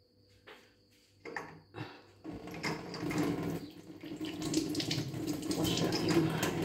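Tap water running into a sink while hands are washed, starting with a few short splashes and drips, then a steady, louder stream of flowing water that builds and continues to the end, with no voices.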